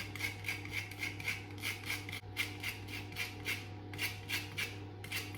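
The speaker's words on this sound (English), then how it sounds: "I'm going to add a finely grated rind of an orange" Orange rind finely grated into zest, a steady series of soft, close rasping strokes about twice a second over a low constant hum, with no talking.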